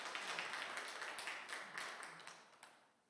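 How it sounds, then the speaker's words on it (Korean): A church congregation applauding after a special song sung in Korean, a dense patter of many hands clapping at a distance, gradually fading out over a few seconds. "다시 한번 큰 박수로 감사 인사합니다"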